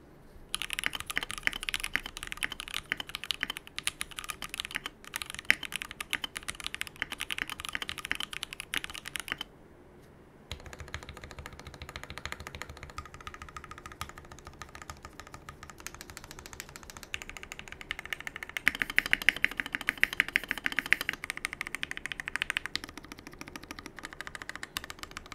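Keyboard typing on an Iron165 R2 board fitted with Aqua King switches, a steady run of close, crisp keystrokes with short pauses and bursts of faster typing, heard alone without any talk.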